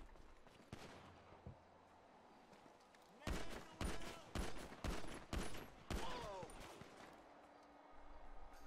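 Gunfire in the GTA 5 game: several loud, sharp shots crack out in quick irregular bursts at close range, separated by short gaps, over a low background with occasional voices.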